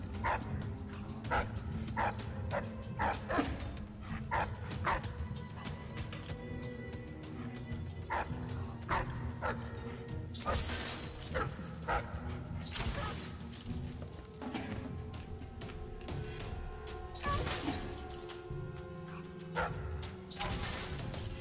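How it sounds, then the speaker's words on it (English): Dogs bark and yip repeatedly in the stealth game Dishonored: Death of the Outsider, sharp close barks recurring throughout over a dense, busy game soundscape with crashes. "really don't like these dogs being right here"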